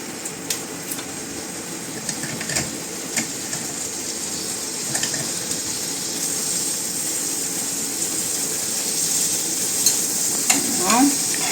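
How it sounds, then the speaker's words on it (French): About 15 to 25 grams of butter melting in a pan, giving off a low steady sizzle with occasional clinks and stirring scrapes, growing a little louder toward the end, with no talking over it. "On va faire fondre 15 g de beurre."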